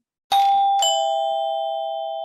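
A doorbell sounds a two-tone ding-dong effect, two clear chimes close together with a long ringing decay.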